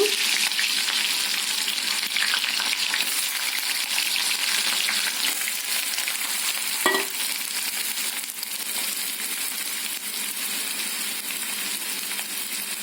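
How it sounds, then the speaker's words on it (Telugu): Chopped onions fry in hot oil with a cardamom pod in a pan, giving a bright, steady sizzle and crackle up close. Faint stirring scrapes and a single sharp clink break through. "ఇప్పుడు ఆయిల్ వేడయ్యాక మనం కట్ చేసుకున్న ఉల్లిపాయ ముక్కలు వేసుకుందాము"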